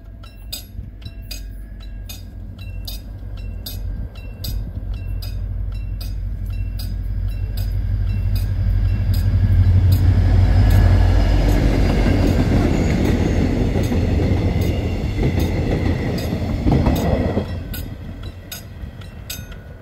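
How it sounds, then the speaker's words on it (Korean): A two-car Mugunghwa passenger train hauled by a freight locomotive rolls through the Gambang level crossing on the Gimcheon–Yecheon–Yeongju line, crossing bells dinging steadily as the rumbling engine and clattering wheels swell, peak up close, then fade. "김천에서 출발해서 예천을 거쳐서 영주로 가는 1803열차가 지금 이곳 감방 건널목을 지나기 전입니다"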